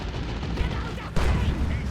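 Heavy cannon fire from a tank's side guns during a Warhammer 40K: Dawn of War 2 battle, a dense roar of gunfire swelling into a sharper, louder volley partway through under constant battle noise.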